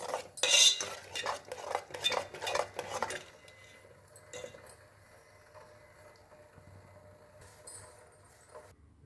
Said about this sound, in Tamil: அது நல்லா கெட்டியாகிற வரைக்கும் நல்லா கிண்டணும்.